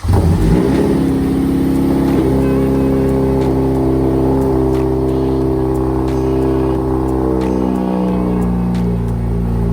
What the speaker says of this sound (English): crank up the car and pump up the brakes to make sure they actually work